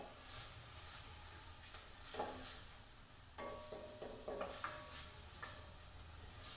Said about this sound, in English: The herbs, you bring the flavor out if you saute them in the oil first.